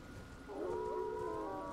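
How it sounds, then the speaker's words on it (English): Magic dogs in the Elden Ring video game let out a short, rising then wavering howl over a low background hum, fairly faint and alone. "Magic dogs!"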